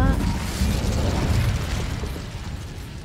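The Incendio fire spell in Hogwarts Legacy roars as a loud, broad whooshing burst of flame that gradually fades over a few seconds, with game effects rumbling underneath.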